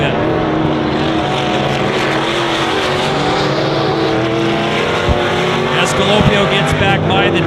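Stock cars race hard through the turns at Honor Speedway, a dense, continuous engine roar from several cars at once, loud and steady throughout with a race announcer talking over it.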